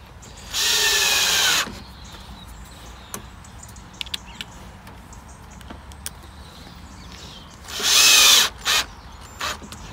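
Power drill driving screws into pre-drilled wooden trellis at an allotment, two loud sustained whirring bursts near the start and end with faint knocks and taps between.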